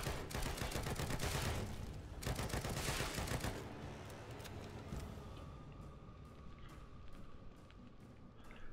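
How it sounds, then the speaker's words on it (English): Assault rifle fire in a video game: dense rapid bursts of automatic shots, loud at first and thinning into sparser, lighter shots and clicks toward the end. "the assault rifle doesn't shoot fast enough, and it doesn't do enough damage"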